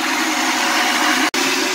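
An electric grinder mincing fish for fish cakes runs with a loud, steady whirring drone, cut by one very brief dropout near the end.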